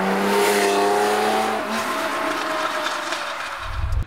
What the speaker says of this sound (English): So we'll take the car for a run.